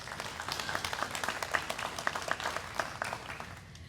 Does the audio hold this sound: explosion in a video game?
no